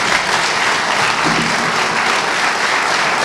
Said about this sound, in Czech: Několika minutový potlesk ve stoje.